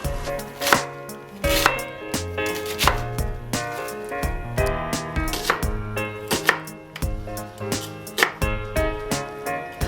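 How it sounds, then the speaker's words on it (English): A knife chops through red cabbage and onion on a cutting board in a kitchen, making a run of crisp, irregular thuds and crunches, close and loud, with no voice over them. "So just roughly chop that up, and then we're going to chop up an onion"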